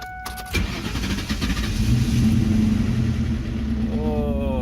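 A cold car engine, started with a jump starter, cranks briefly, then catches and settles into a steady, loud idle rumble, with a faint rising whine near the end.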